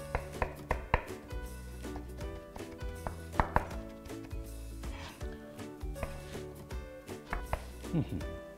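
Onion and green herbs chopped together with a knife on a board, a steady run of close, crisp blade taps with some softer scraping between strokes, and no voices.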